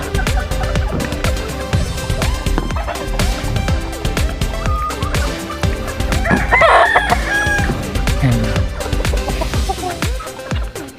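A rooster crows loudly amid a busy, noisy yard with other clucking chickens during feeding, the crow rising out of dense background clatter.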